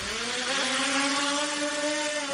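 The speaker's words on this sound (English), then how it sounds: "That's the sound of an Amazon delivery drone" An Amazon delivery drone flies in the Phoenix area, giving off a continuous loud propeller drone with rising and falling tonal whine, steady and close throughout, with no speech.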